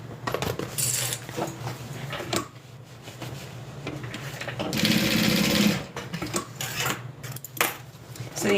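A sewing machine runs in bursts, stitching reinforcement onto a crossbody bag strap, with rapid mechanical whirring and clicking between short pauses and handling clatter; a voice is faintly present under it.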